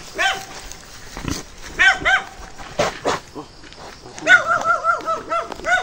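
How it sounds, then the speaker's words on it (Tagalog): A pig squeals and grunts repeatedly in short, high, nasal bursts close by, with scuffling noises in between, on a farm. "Tapos ito guys, yung alaga namin baboy."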